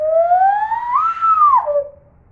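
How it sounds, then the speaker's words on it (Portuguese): A pombinha hand whistle sweeps through several tones, a single clear gliding note rising then falling over about two seconds, loud and close with no speech. "Esse apito, ele tem várias tonalidades"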